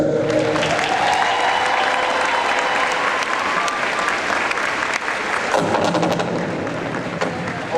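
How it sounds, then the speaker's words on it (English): Loud, continuous applause from a large graduation ceremony crowd, dense overlapping claps holding strong throughout with a slight dip and change in texture partway through. "I'd like to hear a very loud round of applause for your parents, teachers, administrators, family, and friends who have guided you through the past 4 years."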